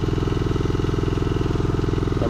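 A farm engine idles steadily with a fast, even mechanical pulse and low rumble, running alone close by.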